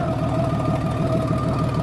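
Steady, close, deep idle of a 1997 Valkyrie Tourer motorcycle with a Cobra exhaust, an even low rumble with a faint knocking pulse and no talk over it.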